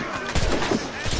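Rapid gunfire in the video game Assassin's Creed Rogue, a dense volley of loud overlapping shots, with a voice mixed into the barrage.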